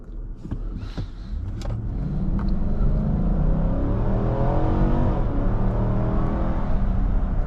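A 2019 Infiniti QX80 Luxe SUV accelerates from inside the cabin, its engine rumble rising through smooth upshifts as road noise builds into a steady, loud drone.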